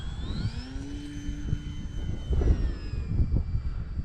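A Durafly Tundra RC model airplane passes low over a flying field, its electric motor whining with a pitch that bends as it flies by, heard over gusty wind noise.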